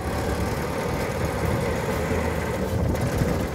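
A Ford Model T engine while driving, a continuous, close, low rumbling drone with a rough, slightly knocking texture and steady loudness throughout, no voices.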